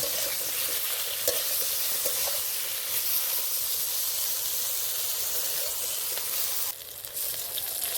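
Eggplant pieces fry in hot oil in a pan with a steady, loud sizzle, continuous throughout with faint scraping, briefly dipping near the end.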